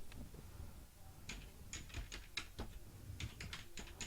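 Typing a message on a desktop computer keyboard: bursts of quick, crisp key clicks in an uneven rhythm, close and fairly quiet, with short pauses between flurries.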